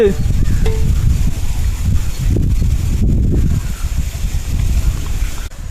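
Cinnamon and mustard seeds fry in palm oil, a loud, steady crackling sizzle that runs throughout, rumbling and muffled with wind buffeting the microphone.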